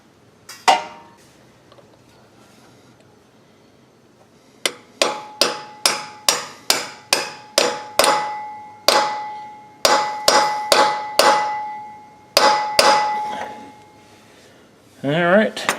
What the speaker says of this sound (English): Probably need my hammer.